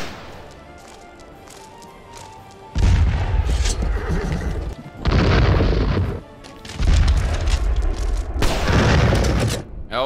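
In the video game North & South, heavy booming cannon blasts and rumbling bursts erupt in waves over a noisy battle din, with a horse whinnying amid the chaos; no clear talk.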